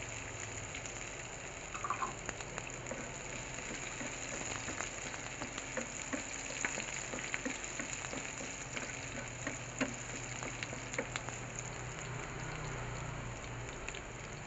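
Garlic fries in a pan with an onion already cooking, a continuous, fairly faint sizzle and crackle that holds steady with scattered small pops.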